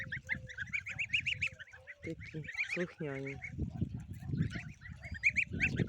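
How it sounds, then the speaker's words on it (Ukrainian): Several goslings honk and peep in quick, overlapping bursts close by, with someone speaking softly over them. "тут такі вже підросли трошки гусенятка"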